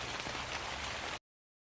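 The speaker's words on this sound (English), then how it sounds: "The rains began." Steady rain falling as a sound effect in a forest-themed story game, a dense even hiss that stops abruptly after about a second.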